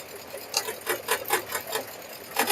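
An embroidery machine stitching black thread onto a keychain design in a hoop, a rapid rhythmic run of mechanical needle pulses, moderately close, with no talk over it.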